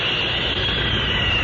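An airplane sound effect from the intro of a Superman radio show gives a loud, even jet-like roar that holds steady throughout.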